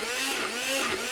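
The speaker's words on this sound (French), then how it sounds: "ce qu'on va faire, c'est qu'on va le mixer pour en faire" A blender purees slow-cooked onion compote in a Christmas kitchen, giving a steady high whirring motor drone with wavering pitch. It is close and continuous for its short length, with no talking.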